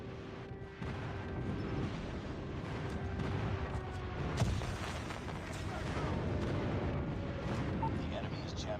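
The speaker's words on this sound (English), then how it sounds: "Enemy airstrike incoming." An enemy airstrike hits in a multiplayer shooter game as a faint, distant, rolling rumble of explosions with one sharper thud, heard under game announcer voice lines.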